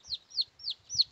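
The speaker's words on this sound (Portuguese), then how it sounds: "Novos membros da família, pessoal. 9 pintinhos." Newly hatched chicks peep beside their hen, four rapid high chirps in a row, close and fairly faint.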